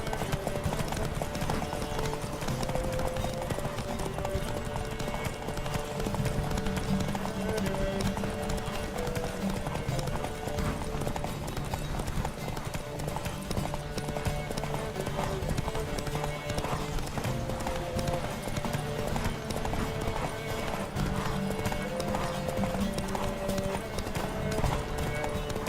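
Horses gallop in a race in the Witcher 3 video game, a steady rapid clip-clop of hooves running continuously at close range, with a whinny now and then and music underneath.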